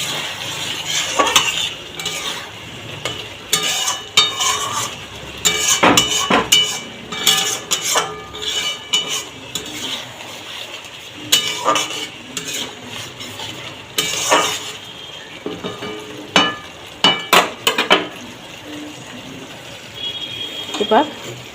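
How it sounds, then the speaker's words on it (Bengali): Boiled eggs go into fried masala for egg curry and are stirred, irregular scraping and clinking of a spoon against a pan over a low sizzle, with brief bursts of louder scraping and occasional talk. "এবার এতে আমি ডিমগুলো দিয়ে দেবো।"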